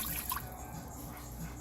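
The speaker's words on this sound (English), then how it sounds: "I'm gonna go ahead and just pour this 1 cup of water right in there" A cup of water poured into a pressure cooker, a short steady trickle and splash of liquid against the pot, fairly close and unbroken.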